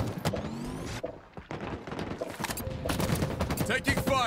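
Rapid bursts of automatic gunfire and weapon shots ring out in a Halo Infinite Ranked Team Arena Oddball match on the Streets map, dense and loud, mixed with game effects and brief in-game voice callouts.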